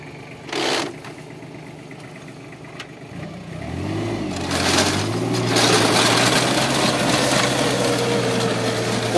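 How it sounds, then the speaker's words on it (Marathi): A New Holland Simba 30 tractor running with a rotavator, starting up after a few clicks and settling into a loud, steady engine drone with a rising pitch, close by. "एक नंबर ट्रॅक्टर चालते काय विषय नाही।"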